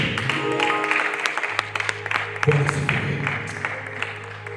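A church congregation claps in praise, lively sustained applause over a held keyboard tone and a low organ-like drone.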